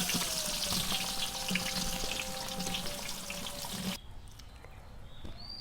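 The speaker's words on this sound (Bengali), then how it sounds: "এবার আমরা দিয়ে দিচ্ছি পেঁয়াজ।" Onions going into hot oil with cinnamon, cardamom and cloves for egg khichuri, a dense steady sizzle and crackle with a faint tone in the background, cutting to a quieter hiss near the end.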